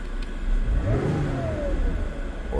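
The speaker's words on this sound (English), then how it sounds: "We're now revving it." A 2020 Chrysler Pacifica engine, fresh from a spark plug replacement, revs up to a loud rising whine, holds, then eases back toward a steady mid-pitched idle, close and alone.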